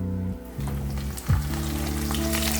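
Salmon cakes frying in oil, one or two at a time, a steady close sizzle that holds throughout, with a brief louder crackle partway through and no voices.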